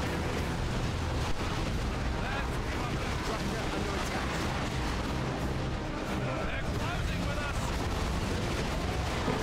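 Grenades going off in the Dawn of War 2 Retribution strategy game during a Salamander terminator battle, a dense, loud, continuous din of blasts and rumbling combat noise.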